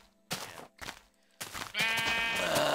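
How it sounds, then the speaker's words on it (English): Sheep in the Minecraft video game bleating in several short, clean bursts, followed by a longer, louder noisy sound at the end. "Sheep. Do I need sheep?"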